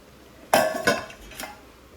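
Pots and dishes being washed clink together in a few sharp, close metallic knocks over about a second, with quiet background between them.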